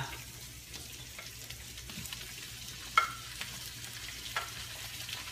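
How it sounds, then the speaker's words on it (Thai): Pounded chili and garlic stir-fry in a pan with Vietnamese pork sausage, a soft steady sizzle broken by a few scraping stirs and clicks, fairly quiet with no one talking. "พริกที่โขลกกับกระเทียมนะคะผัด ผัดจนให้มันเหลืองหอมนะคะ"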